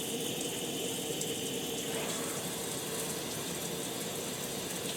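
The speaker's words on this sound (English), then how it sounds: "This is the mixed function with the shower head and the hand shower running together." Water streams steadily from a shower head and a hand shower running at once on a mixing trim valve, a continuous broadband hiss with a slight shift in tone about two seconds in.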